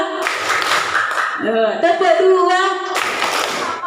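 Junior high students clap in a call-and-response clapping game at a school orientation, with short bursts of hand claps between an instructor's spoken cues.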